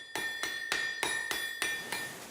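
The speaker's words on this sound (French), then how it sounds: "un marteau de 300 kg, capable de frapper le fer jusqu'à 120 coups à la minute" A 300 kg water-powered hydraulic trip hammer pounds iron in a steady rhythm, about eight ringing metallic blows spaced evenly, each with a bright clanging decay, close and loud with no talk.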